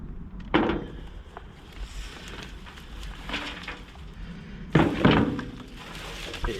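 A heavy tray of freshly harvested supermarket King Edward potatoes knocking over, two loud thudding clunks a few seconds apart with rustling and handling noise between them.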